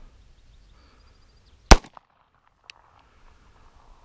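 A Sig P229 Elite pistol fires in double action: one sharp, loud shot stands alone, followed by a smaller crack a second later, against a quiet background.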